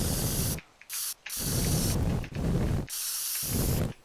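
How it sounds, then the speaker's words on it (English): Spray paint can hissing in the video game Teardown, several loud bursts of spray separated by short pauses. "Oh, I can spray paint the light."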